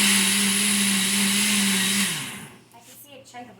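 A countertop blender whirs loudly and steadily through herbed tomato soup, then winds down and stops, leaving quiet room sounds.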